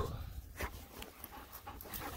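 A dog pants in quick, breathy bursts close by, irregular and moderately loud, with a few short sniffs outdoors during a shed antler hunt in Utah.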